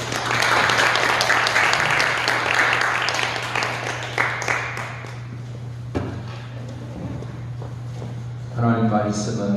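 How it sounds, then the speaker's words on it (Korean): A church congregation bursts into loud applause to welcome a guest pastor at a dawn revival service; the clapping thins out midway and gives way to speech and shuffling near the end. "강사 목사님 나오실 때 큰 박수로 환영하고 축복하겠습니다"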